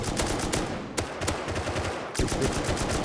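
Video game gunfire in a duo match, a close loud burst of rapid shots with several sharp cracks over a dense rattling background, with no talk over it.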